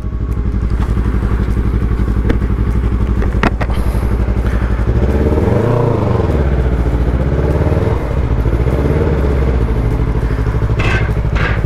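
A Yamaha R3 sport motorcycle rides toward Ortega Highway, its engine droning steadily with revs rising and falling, heard close amid continuous wind rush.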